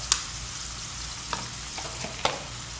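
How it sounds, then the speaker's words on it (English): Freeze-dried onions and peas sauteing in a pan give a steady close sizzle, with a few sharp clinks and scrapes from stirring and no speech. "Okay, we're gonna just saute that a little bit."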